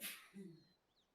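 Someone sneezes once, a sharp, faint burst of breath that is quickly followed by a short voiced tail, set against a quiet background with light chirps during a hunting game session.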